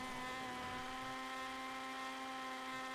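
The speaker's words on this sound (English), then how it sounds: "That's a rotor engine for you, my man." A rotary-engine car in a racing video game holds a steady, high-pitched buzzing drone, faint and continuous with a strong harmonic whine.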